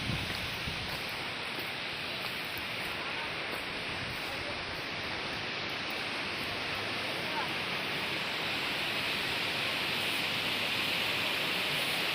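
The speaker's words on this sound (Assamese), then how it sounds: "এইটো ৱাটাৰফলটো আহিছে বহুত ওপৰৰ পৰা" A waterfall on a river in Arunachal Pradesh, a dense, steady rushing roar that fills the whole clip without a break.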